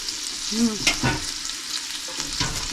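Onions frying in butter or olive oil in a pan, giving a steady broadband sizzle with brief stirring clatters, close and fairly loud, with no talking.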